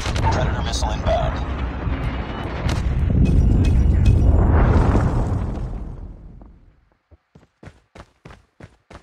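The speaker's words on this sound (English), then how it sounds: "Predator missile inbound." In Call of Duty Mobile multiplayer, a Predator missile explodes as a loud, sustained roaring blast that swells and fades over several seconds, followed by a run of evenly spaced footsteps.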